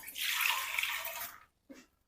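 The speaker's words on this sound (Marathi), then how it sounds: "ठेवले गॅसवरती कुकर ठेवून त्यामध्ये घालायचं आहे आपल्याला एक मग पाणी" A mug of water poured into a pressure cooker on a gas stove for an arum-leaf dish, a steady splashing pour lasting over a second, then a brief second splash after a short pause.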